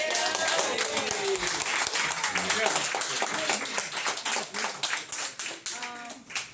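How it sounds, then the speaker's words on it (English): A round of applause at a community get-together, a crowd clapping close and loud, with a few voices and cheers mixed in as the clapping thins into scattered individual claps toward the end. "Can we get a round of applause for that?"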